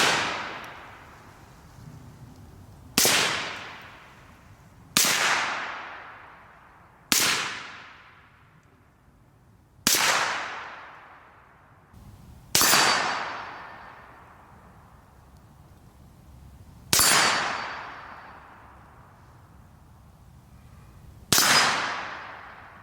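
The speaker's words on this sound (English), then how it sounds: "So I'm just going to shoot some shots in the ground." Eight slow, evenly spaced shots from a 5.56 AR rifle fitted with an Energetic Arms Vox S suppressor, fired into the ground outdoors, each muffled crack followed by a long decaying tail, with no voices.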